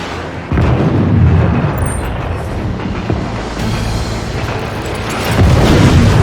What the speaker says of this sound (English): The user can shoot barium-powered Omen missiles.